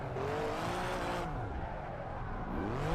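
Drift car spinning a 360 in a video game, with an open-diff feel: a steady engine drone with rising and falling pitch sweeps and tire noise, loud and continuous, heard alone.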